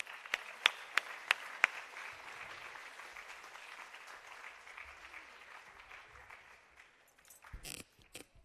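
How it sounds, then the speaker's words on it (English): Audience applause at a Bharatanatyam arangetram, steady clapping from a crowd lasting several seconds with a few sharper nearby claps early on, fading toward the end before some rustling. "Let's have a big round of applause for them."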